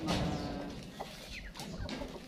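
Crossbred Rhode Island Red hens, large laying birds, clucking at a farm, with a few short close clucks and calls over a steady low background of flock noise.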